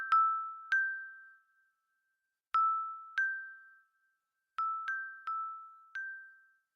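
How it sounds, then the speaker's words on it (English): Clear metallic dings from small silver bells ring out in small clusters of two or three, each tone decaying slowly, separated by moments of silence. "the sound of tinkling silver bells on the wind"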